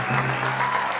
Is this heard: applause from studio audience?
yes